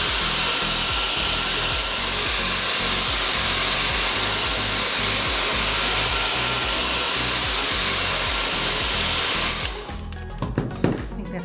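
A handheld dryer blows on wet paint on a journal page, making a loud, steady whirring roar for about nine seconds before it cuts off, followed by light handling noises.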